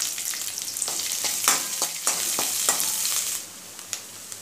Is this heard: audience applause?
no